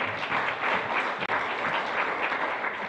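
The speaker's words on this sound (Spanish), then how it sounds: "Démosle un fuerte aplauso más, por favor" Church congregation at a united Quechua worship service applauding a folk group, a steady dense wash of clapping filling the whole stretch at a fairly strong level, with a brief dropout midway.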